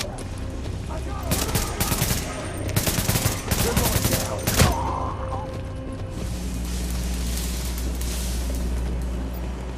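Gunfire in The Division, a firefight in lower Manhattan: dense bursts of automatic fire and rapid shots crowd the first half, ending in a sharp blast, then give way to a steady low mechanical hum.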